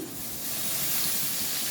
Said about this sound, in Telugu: నూనెలో వేగిన కరివేపాకు